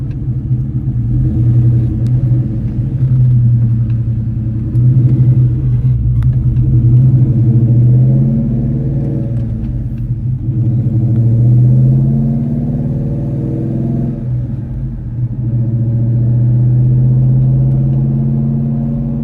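A V8 Cobra with a stick shift rumbles steadily while driving, its deep engine note rising and falling through gear changes and throttle swells, loud and close with no talking.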